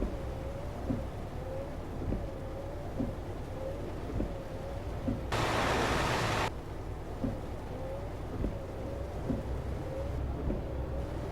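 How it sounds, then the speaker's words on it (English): Steady rain hiss in Euro Truck Simulator 2 with rumbling engine-like drone and a rhythmic wiper-like sweep, interrupted by a brief loud burst of noise midway. "it seems like it rains a lot"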